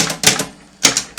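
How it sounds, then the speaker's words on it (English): Brother Deluxe manual typewriter typing, sharp close keystrokes in quick bursts of three or four strikes separated by short pauses, heard alone. "And now your typewriter should be typing."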